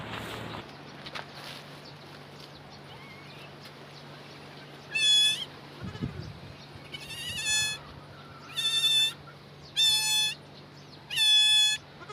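Newborn goat kids bleat in five short, high, nasal cries spaced a second or so apart in the second half, close by over a quiet farm background with a steady low hum and a brief rustle.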